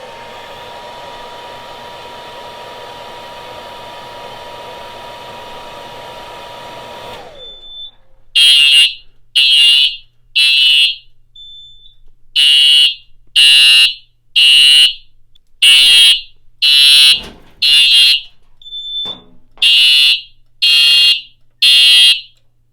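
Fire alarm system sounding after a heat detector test: a steady droning tone cuts off, then loud repeating horn blasts pulse in a regular rhythm with short gaps, close and alone.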